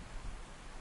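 Steady, even rain hiss in the DayZ video game, a soft continuous wash of noise with no distinct drops or voices, quiet and uniform throughout the short moment.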